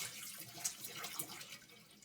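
Purified water pours over organic brown rice in a bowl, a soft, steady splashing trickle heard close but quietly, with light irregular spatters.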